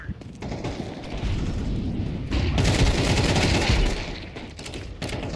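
Pistol gunfire in a video game: loud, continuous crackling shots and bursts packed together over several seconds, with harsh impacts, heard up close in a busy game mix.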